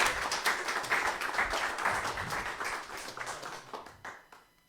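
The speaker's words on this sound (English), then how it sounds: "Please join me in giving a well-deserved round of applause for Dr. Jean Lodge." An audience at a lecture applauds a speaker with a dense wash of many hands clapping, steady at first and then thinning and fading out toward the end.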